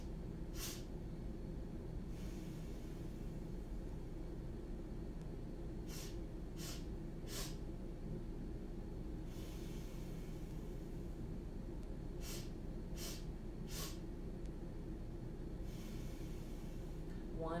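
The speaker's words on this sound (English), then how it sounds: "taking your bunny breaths" Quick, sharp sniffing breaths as in a children's bunny-breath calming exercise, short bursts of rapid nasal inhales in several rounds against a faint, steady background hiss.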